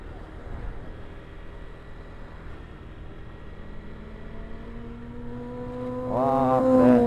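A big Kawasaki ZX motorcycle rides past, its engine tone rising and growing louder near the end, heard under street ambience and faint voices.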